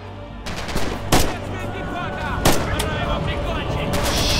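Large-caliber gunfire in the Red Orchestra 2 video game, set in June 1941: heavy booming shots, two standing out around the middle, over a continuous rumble of distant battle fire.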